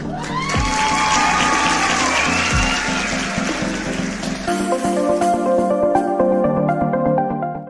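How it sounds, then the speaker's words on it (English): A summit audience applauds and cheers loudly and steadily, with whoops rising over the clapping before it thins toward the end. "let's receive with a round of applause Mr. Fola Folabade."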